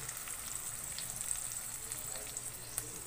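An egg omelette frying in a pan gives a steady, bright sizzle that holds evenly throughout, close and fairly loud, with faint crackles on top and no talking.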